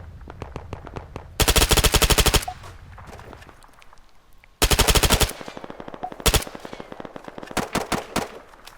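An MP7 PDW firing in ARMA 3, loud rapid full-auto bursts close by, two long bursts and several shorter ones separated by quieter stretches with distant shots.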